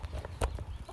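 Free-range chickens in an airy coop give faint, brief clucks with soft scuffling in the background.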